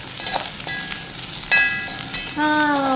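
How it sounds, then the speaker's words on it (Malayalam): Raisin pickle sizzles in a pan while it is stirred, a steady loud crackle overlaid with squeaky, scraping tones from the spatula in short bursts. "ഇതിങ്ങനെ നമ്മൾ ഇളക്കി വഴറ്റി എടുക്കണം"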